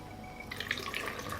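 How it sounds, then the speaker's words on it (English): Water is poured into glass jars packed with tomatoes, giving a soft, steady splashing and trickling that fills the moment at low volume with no talk. "I pour water into the jars to cover the tomatoes."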